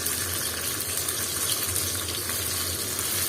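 Crisp loitta fish pieces fry in hot oil in a pan, a dense, close, continuous bubbling sizzle with no talking.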